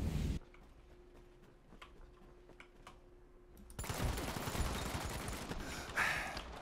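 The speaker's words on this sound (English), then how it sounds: "Fucking missed all my shots." Bursts of gunfire in a shooter video game's team deathmatch, scattered sharp shots at first, then a denser, louder stretch of rapid fire near the end, with no talking over it.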